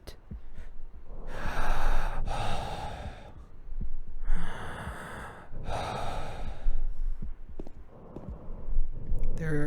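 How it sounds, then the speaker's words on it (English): Heavy, labored breathing in Silent Hill 2, long ragged inhales and exhales repeating in slow waves, loud and close, with no talk over it. "That's breathing."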